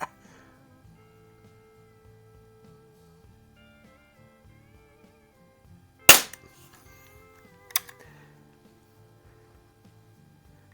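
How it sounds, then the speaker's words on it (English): A Crosman 760 air rifle fires BBs, giving two sharp, snappy shots a moment or two apart over a quiet background, the first one louder. "This thing's shooting these BBs pretty darn good."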